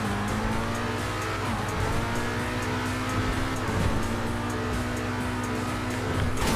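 A Grotti X80 Proto supercar in the video game GTA 5 drives hard, its engine droning steadily and loudly near the rev limiter with brief shifts and a faint tire squeal, no voices.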